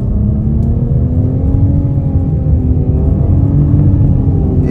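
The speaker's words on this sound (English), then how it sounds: "We'll try an acceleration out off the line." A 2023 Nissan Rogue Platinum AWD pulls away hard from a standstill after brake torque, its engine drone steady and loud inside the cabin with rising tones as it gathers speed.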